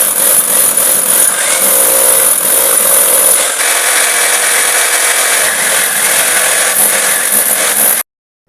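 Power drill boring into a wall to mount a wash basin, a loud continuous grinding whine that holds steady for about eight seconds and then cuts off abruptly, heard alone.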